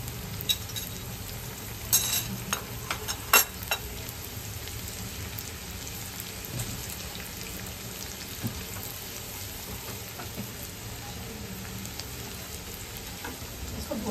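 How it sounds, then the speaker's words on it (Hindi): Green chillies fry in a pan for chicken hakka noodles, giving a faint, even, rain-like sizzle throughout with a few light clinks of a utensil early on, and no speech. "भुनना ही है ना हाँ हाँ भुनना ही है जरा इसकी स्मेल अच्छी आने लगेगी"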